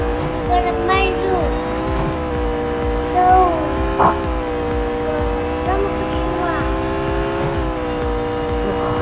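Steady engine drone of a car racing in a video game, holding a high, slightly wavering pitch with brief bumps of intensity, under a speaking voice throughout.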